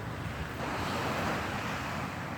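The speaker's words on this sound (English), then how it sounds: "the waves are definitely sneaking up on me" Small ocean waves wash steadily onto a shore with a constant broadband surf hiss and some wind noise, close and continuous, with no talk.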